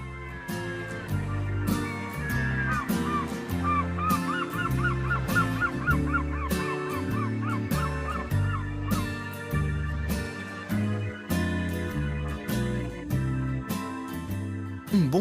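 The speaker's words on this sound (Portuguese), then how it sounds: "ouvir o som das gaivotas" Seagulls call at the seaside on the coast of Normandy, with repeated harsh, honking cries over a steady rhythmic musical background at moderate loudness.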